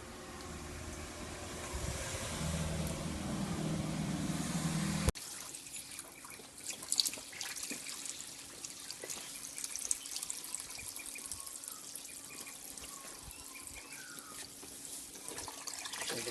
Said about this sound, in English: Turn on your tap and the fresh water is going to flow in through the bottom hose